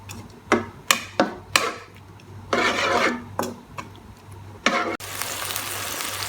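Leftover soup poured into a pot of mutton for namkeen gosht, a run of short close scrapes and splashes followed by a steady hiss of liquid hitting hot metal.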